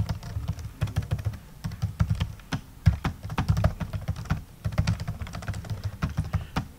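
Close, steady clatter of keys on a computer keyboard as Java code is typed, irregular bursts of keystrokes with brief pauses, alone without talk.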